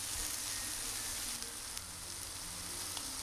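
Noodles sizzle steadily in a hot pan during a chicken noodle stir-fry, a close, continuous hiss with a few faint clicks and stirring touches, no talk.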